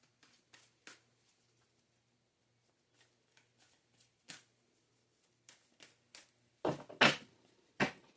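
Tarot cards being shuffled and handled: quiet, scattered papery taps and flicks, some grouped into short bursts, with louder riffling near the end and stretches of near silence in between.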